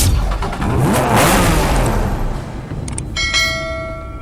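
A Porsche 911 GT3 RS in the Need for Speed Hot Pursuit video game roars loudly past as its engine revs, then a ringing bell-like chime sounds near the end, with no talk.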